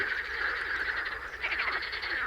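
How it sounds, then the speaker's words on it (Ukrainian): Frogs croak constantly at a swamp where someone is fishing for crucian carp, a dense, steady chorus of rattling calls filling the whole stretch with no pauses. "Жаби квакають так, що і мені голову надурять"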